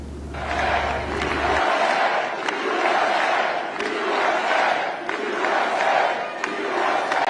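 A large crowd of jubilant supporters at a rally for the Republican former president, cheering and shouting in continuous, swelling waves.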